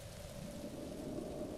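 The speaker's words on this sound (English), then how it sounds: "Come on, stop raining already." Steady rain falling in the video game The Legend of Zelda: Breath of the Wild, a continuous even wash of drops at moderate level with no break.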